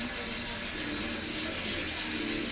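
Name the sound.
rinsing something under running tap water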